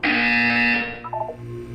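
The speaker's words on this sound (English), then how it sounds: "When you hear the buzzer, look down at the floor." A loud harsh electronic buzzer in the video game Portal 2 sounds once in a long steady blast, then cuts off into a brief fading electronic warble.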